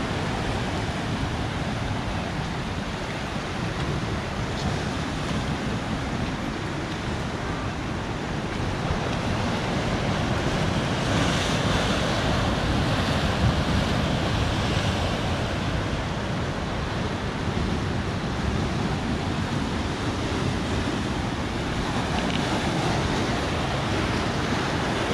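Ocean surf at Playa Conchas Chinas rolls in as a dense, steady wash mixed with wind rumble on the microphone, continuous and loud throughout with no voices.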